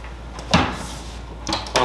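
A drawer on a retro bar cart slides and knocks shut, with a few short wooden thumps and scrapes close by in a quiet room.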